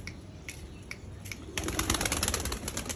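A flock of kept pigeons coos softly in short repeated phrases, and wing flaps and rustling grow busier partway through.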